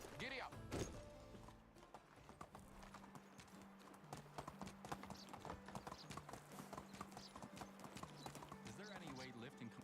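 Horse hooves clip-clop in a steady, brisk rhythm in Medieval Dynasty, joined by a brief whinny near the start and a low music drone, while someone talks over the hoofbeats throughout.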